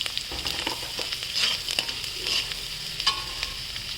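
Chopped bitter gourd fries in a large pan while being mixed, giving a bright, steady sizzle with scattered spatula scrapes and crackles, close and fairly loud.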